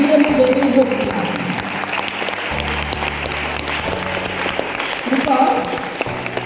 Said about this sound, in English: Give them a very good clap.